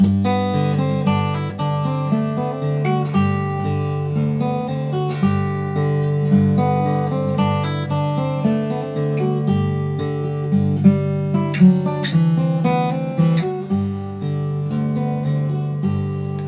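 An acoustic guitar plays a gentle fingerpicked slack key turnaround, with double stops on the inside strings ringing together over a steady bass pattern, close and clear.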